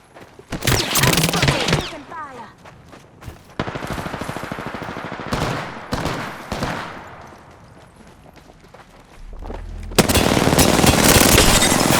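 Automatic gunfire in the Apex Legends battle royale game, bursts of rapid shots in loud clusters separated by quieter gaps, ending with a sustained loud stretch of firing.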